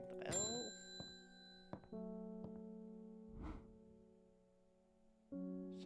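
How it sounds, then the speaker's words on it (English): A shop bell rings in the video game Strange Horticulture, a bright struck chime that decays slowly, with further sustained ringing tones and a soft muffled voice-like sound between strikes. "let's ring the bell"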